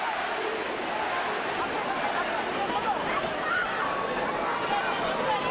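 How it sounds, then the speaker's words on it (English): A sold-out boxing crowd in Las Vegas at the Manny Pacquiao versus Keith Thurman fight, a steady roar of voices and chanting filling the arena throughout, with a commentator talking over it. "More chance of Manny from this sold-out crowd in Las Vegas."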